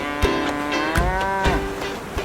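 Cows at a beach moo among the waves in one long, close, tonal call that rises and falls, with a few soft clicks and thumps between the calls.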